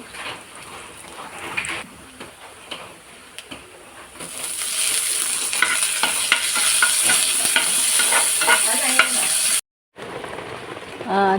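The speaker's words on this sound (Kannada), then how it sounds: "ಈರುಳ್ಳಿ ಹಾಕುವಾಗಲೇ ಹಾಕಿದರೆ ಅದು ಫ್ರೈ ಆಗ್ತದೆ ಚೆನ್ನಾಗಿ ಫ್ರೈ ಆಗಲಿ" Onions fry in a pan, starting as quiet, scattered crackles and swelling after a few seconds into a dense, steady sizzle with stirring, cut off briefly near the end before resuming.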